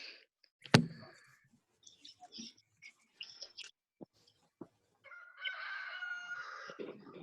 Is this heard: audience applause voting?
no